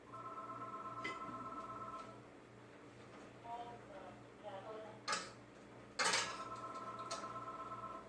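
Phone call tones ring out in a kitchen while cooking, a steady repeating electronic beep pattern that stops and then starts again, with clatter and faint talk.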